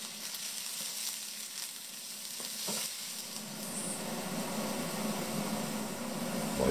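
Cubed raw potatoes sizzle and brown in a pan over very low heat for a tartiflette, a soft steady crackle that grows a little denser toward the end, with no talking.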